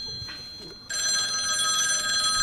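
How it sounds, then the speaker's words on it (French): A telephone ring effect starts suddenly and keeps trilling loud and steady during a Cold War tabletop role-playing session of Call of Cthulhu, with faint sounds before it. "Léonard, ton téléphone sonne."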